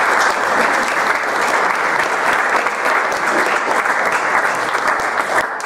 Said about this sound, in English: So another round of applause as we greet the Major.